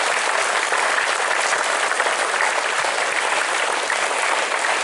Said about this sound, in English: Let them appreciate them with our applause